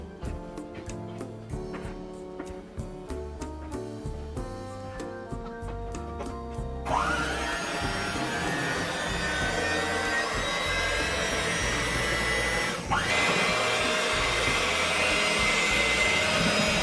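Electric hand mixer beating flan cake batter, a loud steady whir that starts after several seconds of rhythmic knocking and then runs continuously close by, no talking.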